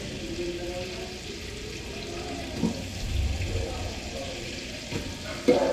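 Onions fry in a pan with a soft, steady sizzle and occasional stirring scrapes, while people talk nearby.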